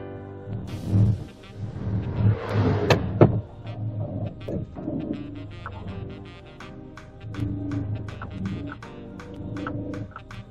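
A manual-transmission car starts and idles with a steady low engine hum, punctuated by a few clicks and clunks as the gearstick is shifted into gear, heard close up inside the cabin.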